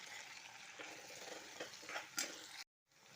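Soybean dish with curry leaves sautéing in a pan, a steady close sizzle with stirring scrapes, then a sudden brief silence near the end before the frying resumes.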